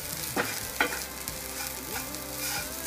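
Barnyard millet (bhagar) is dry-roasted in a pan, with a steady gritty hiss and sizzle broken by a few sharp scrapes as a spoon stirs the grains.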